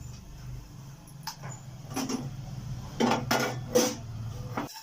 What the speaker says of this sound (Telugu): కొంచెంగా ఈ కాజుది మురుమురాలని పచ్చివాసన పోయేంత వరకు వేయించుకుందాం